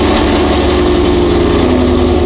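A loud, rumbling car engine idles steadily up close, a deep continuous throb with no pauses or voices.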